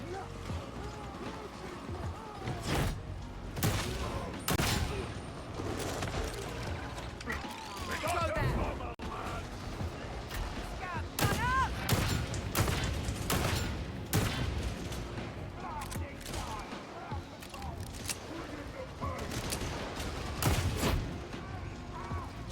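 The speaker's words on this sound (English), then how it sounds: "Someone trying to shoot me in the back." Gunfire in a shooter video game, bursts of shots and impacts in a busy, dense mix with thudding movement sounds, sustained and loud throughout, with a voice talking over it at times.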